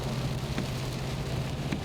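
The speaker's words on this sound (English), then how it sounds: "Of course the rain is coming down today" Rain falls outdoors as a soft, even hiss with a low background rumble, faint and continuous.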